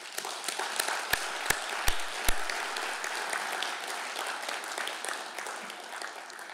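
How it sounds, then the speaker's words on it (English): A crowd of meeting attendees gives a round of applause, fairly quiet and steady, with a few sharp close claps standing out near the start. "giving yourselves a big, huge round of applause for what you've done"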